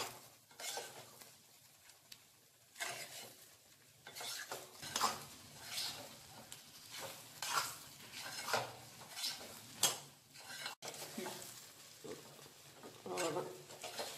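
Pirandai (adamant creeper) being sautéed in a pan for thuvaiyal, with repeated stirring scrapes and utensil clinks against the pan over a faint sizzle, steady and close throughout.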